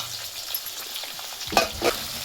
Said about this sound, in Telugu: పచ్చిమిరపకాయ ముక్కలు, కరివేపాకు